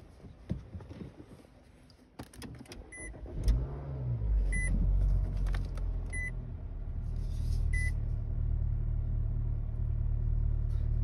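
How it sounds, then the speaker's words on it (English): A 2020 Nissan Altima starts up after a few short electronic beeps, its engine catching into a steady low rumble that settles into idle and grows slightly louder. "Let's try to start the car."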